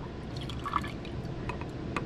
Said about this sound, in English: So we'll pour that into a beaker.